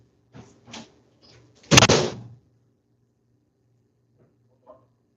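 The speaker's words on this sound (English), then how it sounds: "Hold on, let me close the door." A door is pushed shut indoors with one sharp thud near the middle, preceded by a few light knocks and rattles and followed by a faint tap, all close in a quiet room.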